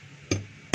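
Two sharp metallic knocks from a pipe tapping a bearing out of a DeWalt D25811 jack hammer, spaced under half a second apart, close and loud with a brief ringing tail.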